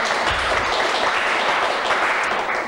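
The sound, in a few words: studio audience applause on French TV game show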